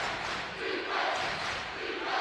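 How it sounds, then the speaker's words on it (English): Basketball arena crowd chanting in unison, a broad, steady roar of many voices at moderate distance with no clear speech on top. "Crowd chanting defense"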